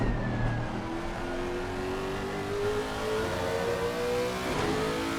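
A 5.4 litre naturally aspirated V8 race car howls on board around the Mount Panorama circuit at Bathurst, engine pitch climbing steadily through a long pull in a continuous, close, droning roar.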